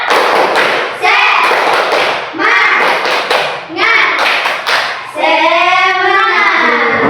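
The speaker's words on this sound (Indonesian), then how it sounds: "Tepuk semangat" Primary school pupils in a classroom perform a rhythmic group spirit clap, loud close bursts of unison claps in short phrases separated by brief pauses, with children chanting along and a final sung line.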